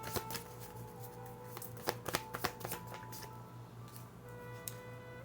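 Tarot cards are shuffled nearby, giving soft, quick riffling and tapping sounds with a few sharper snaps, over a faint steady hum.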